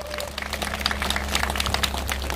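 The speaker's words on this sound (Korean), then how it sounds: "예, 박수 부탁드리겠습니다" An audience claps steadily at a Korean ceremony, a dense patter of handclaps over a low hum, moderately loud and continuous.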